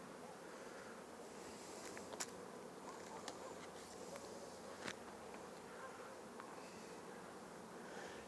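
Honey bees buzzing steadily around an open beehive during a beekeeping lesson, a dense continuous drone with occasional individual bees flying close past.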